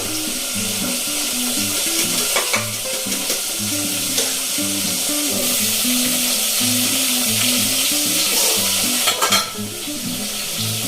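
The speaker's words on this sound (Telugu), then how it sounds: "పచ్చిమిర్చి వేగిపోయాయి కట్ చేసుకున్న టమాటాలు వేసేద్దాం" Chopped tomatoes go into a pan of frying green chillies for a chilli-tomato chutney, giving a steady, close sizzle with stirring and scraping throughout, the spoon knocking against the pan a few times.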